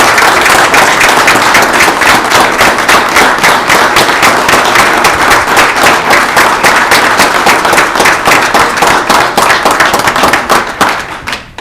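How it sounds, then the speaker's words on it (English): A loud, dense round of applause for the Lake Central Indians team at a town council meeting, sustained claps from a standing crowd filling the room before tapering off at the end. "Let's stand and give a big round of applause for the Lake Central Indians."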